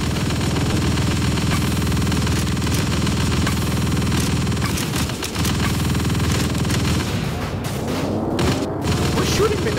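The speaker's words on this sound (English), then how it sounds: "We're shooting him in the back. Somebody's shooting him in the back." Gunfire and explosions fill a chaotic fight in the vehicular combat video game Chaos on Wheels: dense bursts of shots and booms, loud and sustained, with voices talking over the game sounds.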